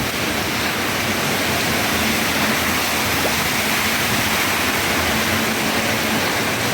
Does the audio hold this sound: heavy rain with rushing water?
yes